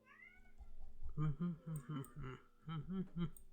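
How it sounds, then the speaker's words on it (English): A needy house cat meows repeatedly and close up, a string of about seven or eight short, nasal cries in quick succession heard indoors with no one talking. "I apologize if you guys hear my cat"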